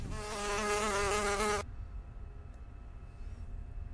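A mosquito whines in a steady, high, close buzz for about a second and a half, then cuts off abruptly, leaving quiet room noise.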